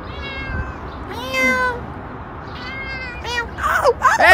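A cat meows several times, drawn-out and fairly close, with rising and falling cries that grow sharper toward the end, while people talk around it.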